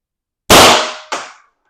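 A gun fires an 8.8 gram Gladiator less lethal round, one loud, close blast with a long decaying tail, followed by a softer second crack or echo about half a second later.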